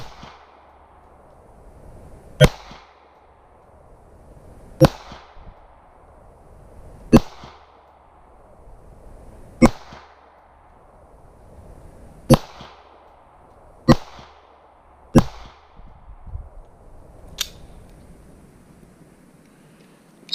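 Pistol shots fired outdoors over a Caldwell ballistic chronograph, about nine sharp, loud cracks spaced roughly two to three seconds apart, each with a short ringing tail, no talking.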